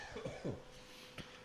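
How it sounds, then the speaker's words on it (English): A couple of rough, close coughs in quick succession, followed by a brief quieter throat sound, with no talking. "Oh, this cough."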